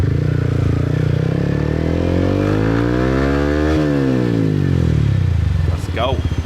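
A motorbike ridden through the streets of Saigon, its engine droning loud and close with a long pitch sweep as it changes speed, traffic noise around it and a brief squeak near the end.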